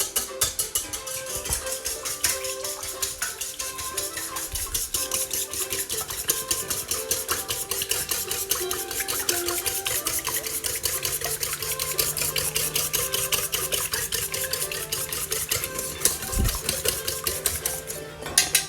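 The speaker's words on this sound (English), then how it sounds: "we have 3 eggs that we're gonna put in our bowl, along with a cup and a half of milk. What we're gonna do is whisk these." Three eggs and a cup and a half of milk are whisked in a bowl, a rapid, steady clicking and scraping of the whisk that continues loud and unbroken for the whole stretch.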